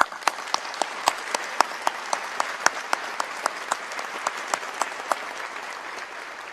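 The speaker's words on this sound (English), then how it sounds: "Let us give them all a wonderful round of applause" Audience at a university white coat ceremony for osteopathic medicine students applauds, with steady dense clapping and a few louder individual claps standing out, filling a large hall.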